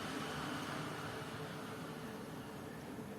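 An electric fan runs steadily, a broad even whooshing hiss with a faint low hum, continuous and unchanging throughout with no voices.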